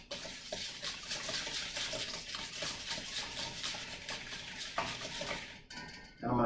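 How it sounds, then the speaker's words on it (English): A whisk beats sugar into egg yolks in a bowl while eggnog is prepared, giving a steady, busy run of rapid metallic scraping and clinking that stays close and fairly loud throughout, with no talking. "So I'm going to whisk that sugar into my yolk."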